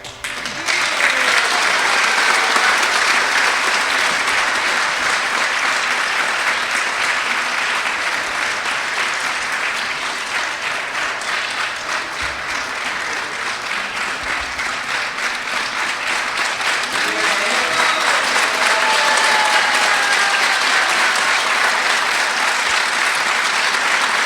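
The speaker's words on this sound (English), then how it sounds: "All the claps are for Sita and Rama and Hanumanji and Lakshmana Deva." An audience at a talk on the Ramayana breaks into sustained applause, a dense, loud wash of clapping lasting over twenty seconds that dips slightly midway, then swells again.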